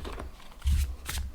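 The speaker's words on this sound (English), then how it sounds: "I can shuffle them like that because I do want some reversals in there" Tarot cards of the Muse Tarot deck are shuffled by hand, a few soft riffling and sliding bursts close up, with quiet gaps between them.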